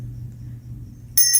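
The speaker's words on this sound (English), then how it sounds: "oh no, my bell. It gets in my backpack" A small bell jingles inside a backpack, giving a brief bright tinkle near the end after a quiet stretch of low background hum.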